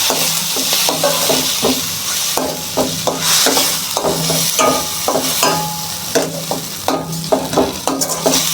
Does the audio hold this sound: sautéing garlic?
yes